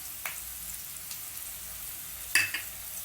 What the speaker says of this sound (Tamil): பெப்பர் போட்டு வதக்கி விட்டு சோயா சாஸ் ஊற்றிக்கோங்க